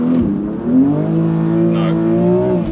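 Manual six-speed BMW engine revving at about 4000 rpm, then pulling away from a standstill as the clutch is released, a loud droning climb in pitch with some tyre noise.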